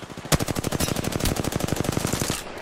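Rapid automatic gunfire in Apex Legends, a steady burst of roughly two dozen evenly spaced shots lasting a couple of seconds, loud and close with no talk over it.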